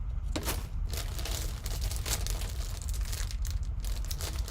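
Clear plastic packaging around a cast display stand for RC touring cars is handled and pulled open, giving a steady run of close crinkling and crumpling with short tearing bursts and no talk.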